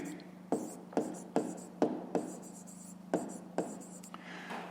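A pen writes on notebook paper during a fifth-grade math lesson, producing a close, steady scratching with regular taps as each figure starts, quiet and without talk.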